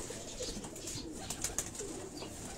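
Breeder pigeon pairs kept on a rooftop in Karachi's Defence area give soft, low cooing calls, faint and repeated against quiet background noise.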